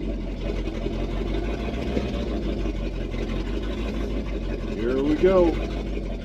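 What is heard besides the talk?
1979 Chevrolet C20 truck with a 454 engine running on its first drive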